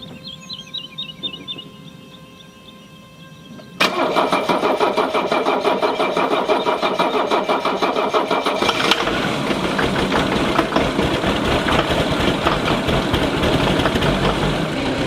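A Mercedes-Benz W126 with a Steal Seal treatment is cranked and started, then settles into a loud, rough idle with a busy, rattling mechanical texture, all close up and with no talking.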